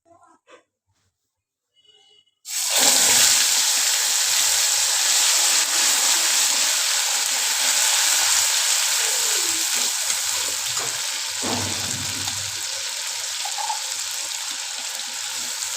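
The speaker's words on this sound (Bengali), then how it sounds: "এরপরে আমি সেই তেলে, মাছ ভাজার তেলে, গোটা গরম মশলা, তেজপাতা দিয়ে দিলাম।" Whole garam masala and bay leaves hit oil already used for frying fish, and a loud, steady, hissing sizzle starts abruptly and holds close by. A brief stirring clatter comes partway through, with no talking.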